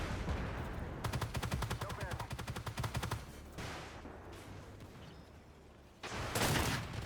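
A tank's machine gun fires in a video game, a rapid burst of about two seconds with evenly spaced shots, followed by heavier booming blasts and battle rumble, fairly faint overall.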